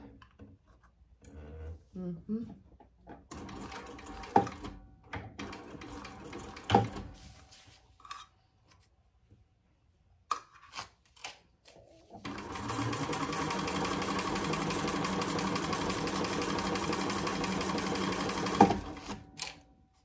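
A Thor sewing machine basting a zipper lining onto a waist pack: scattered handling taps and short starts at first, then a loud, close, continuous run of stitching lasting several seconds.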